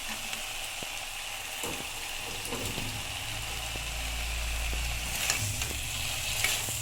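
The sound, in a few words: fish frying and sizzling in a pan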